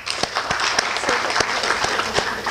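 An audience applauds in a hall, with dense, loud clapping that holds steady throughout and is punctuated by a few sharper individual claps.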